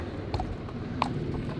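A horse's hooves clip-clop at a walk outdoors on a trip where trucks pass by, a few soft irregular hoof strikes over steady broadband background noise.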